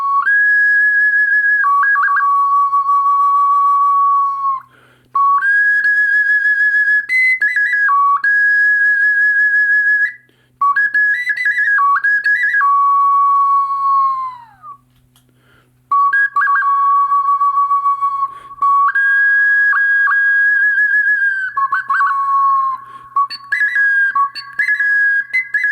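Lithuanian traditional clay whistles played alone in a series of loud, sustained piping tones that step between two pitches, with short pauses and trills between phrases.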